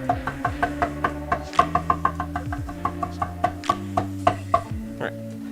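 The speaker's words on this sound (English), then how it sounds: "I stop a little bit early on the ginger mincing, like we just did" A sharp knife finely mincing ginger on a cutting board for Beijing zha jiang mian gives a steady run of about twenty crisp, close knocks with a low hum running under them.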